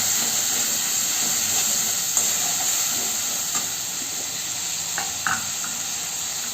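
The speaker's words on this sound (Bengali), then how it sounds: "এর মধ্যে জিরের গুঁড়ো, লঙ্কার গুঁড়ো আর হলুদের গুঁড়ো দিয়ে আর একটু ভালো করে কষিয়ে নেব" Ginger paste fries in oil with cumin, chilli and turmeric powder for a Bengali potato and pointed gourd curry, giving a steady close sizzle and hiss with occasional soft stirring scrapes.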